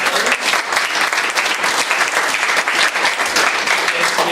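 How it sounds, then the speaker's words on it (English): Audience applause at an evening talk event fills the room, a dense, steady clatter of many hands clapping at close range throughout, with no pauses. "another round of applause for our"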